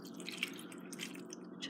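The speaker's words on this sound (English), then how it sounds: "And then just add a little bit of water to the pot" Water is poured into a pot of spinach in a home kitchen, giving soft, close-up trickling and dripping with a small splash near the end.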